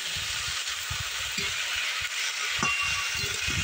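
Shredded cabbage being stirred in a hot pan without added water for a festival bhog cabbage ghonto. A steady sizzle of frying runs throughout, with repeated low scraping strokes of the spoon in an uneven rhythm, close and clear.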